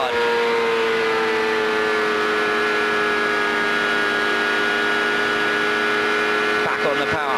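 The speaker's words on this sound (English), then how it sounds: "Just listen to that V8 Ford engine working hard." A Ford V8 engine in a 1998 CART race car at Homestead, heard onboard, droning loud and steady at high revs under hard load, the pitch sagging slightly near the end.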